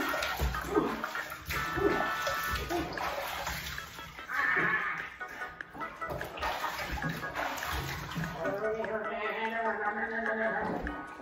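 Water runs and splashes in a bathtub while a dog is washed, a steady close wash of running water with sloshing bursts, and a person talking throughout.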